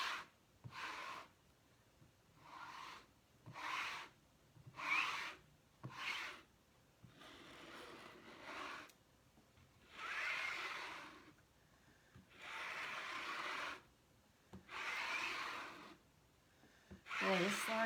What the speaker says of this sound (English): this large squeegee really covers a lot of area quickly